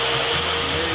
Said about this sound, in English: I'll go ahead and take a grinder and I'll cut a couple threads off.